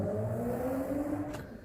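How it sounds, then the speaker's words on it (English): Car fitted with a loud muffler passes nearby, a steady low engine drone with rising harmonics held for under two seconds, loud and continuous with no speech over it. "Why do people have loud mufflers?"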